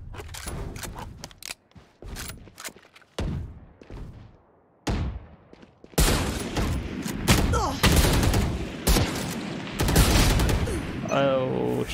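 Gunshots in the video game Valorant, sharp, loud cracks fired singly and in quick clusters with short silent gaps early on, then denser bursts of fire later, with occasional voices.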